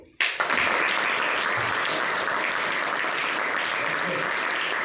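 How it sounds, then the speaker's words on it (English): Steady, dense audience applause at a youth leadership club meeting, starting abruptly after a brief pause and holding at an even, full level throughout with a faint murmur of voices mixed in. "So let's give a round of applause."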